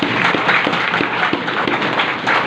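A Teachers' Day audience in India claps in applause for teachers, a dense, even patter of many hands at moderate loudness, brief and steady throughout.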